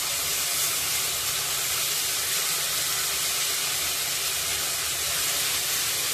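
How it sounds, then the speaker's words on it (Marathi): Ginger and coriander paste sizzles steadily in hot oil while being sautéed for a spicy grouper fish curry, a continuous close, even hiss with no talking. "तर तेल तापलेलं आहे, त्यामध्ये मोठा टेबलस्पून होईल इतकी मी पेस्ट घालत आहे। पेस्ट परतून घ्यायची आहे।"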